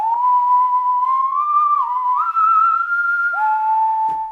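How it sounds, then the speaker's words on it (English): Whistle instrument from Spitfire Audio's Hearth and Hollow Folk Voices library, a loud, clean sustained melodic whistle gliding between a few pitches with a slight slide near the end, played alone. "They've given us a whistle instrument here."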